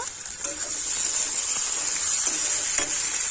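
Onion, garlic, ginger, cumin and dry chilli paste sautéing in a pan, a steady loud sizzle with faint scraping stirs now and then, no voices.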